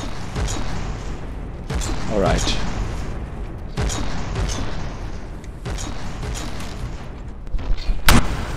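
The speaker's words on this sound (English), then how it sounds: "there is my custom cannon" A custom cannon in the naval combat game From The Depths fires repeated heavy booms at irregular intervals, and someone speaks briefly over the battle noise.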